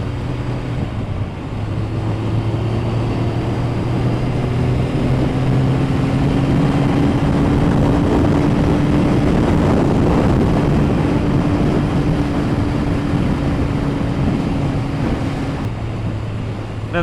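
A Triumph Daytona 900 triple motorcycle being ridden gives a steady, loud engine drone mixed with wind rush, its pitch rising and falling gently as the bike runs on.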